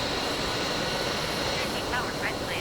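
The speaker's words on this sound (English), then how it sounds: "it might just get a little loud with the jet engine" A Shenyang J-31 jet engine roars loud and steady in Microsoft Flight Simulator, a broad continuous whine and rush running the whole time with a faint voice underneath.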